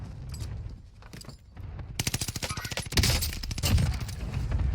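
Rapid automatic gunfire in a first-person shooter: a few scattered shots, then a loud, fast-rattling burst followed by more heavy sustained firing, close and dominant with no talk.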